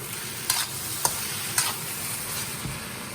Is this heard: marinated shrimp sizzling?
yes